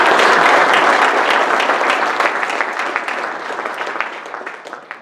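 A round of applause from an audience at a professional association meeting, dense clapping that starts loud and gradually tapers off over a few seconds.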